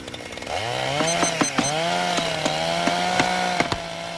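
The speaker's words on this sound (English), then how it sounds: "I told you to lose that chainsaw." A chainsaw starts with a pull and revs up, its engine droning loudly and rising and falling in pitch with sharp bursts of throttle.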